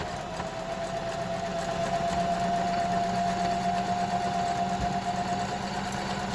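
A sewing machine runs steadily, sewing a decorative stitch on a fabric face mask with a fast, even mechanical whir and rapid needle chatter, close and fairly quiet, with no talk.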